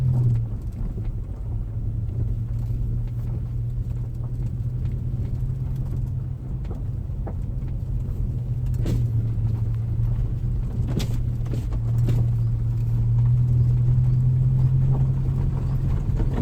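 Nissan with automatic transmission descending a mountain road, a steady low engine drone with rumbling tyre and wind noise, plus scattered light clicks and knocks over about sixteen seconds.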